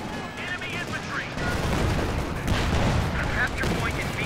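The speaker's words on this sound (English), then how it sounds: "Looks like Ace going for some ranges with the Thompsons now" Thompson submachine guns fire in Company of Heroes 2 as American troops engage, with several rapid bursts of gunfire and distant battle noise under a commentator's voice.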